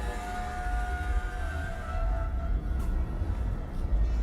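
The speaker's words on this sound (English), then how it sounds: "This is the sound of a tram approaching the Reshetova tram stop." A tram rumbles steadily as it approaches a stop, with a rising electric whine and rattling, a continuous, fairly close mechanical drone with no voices.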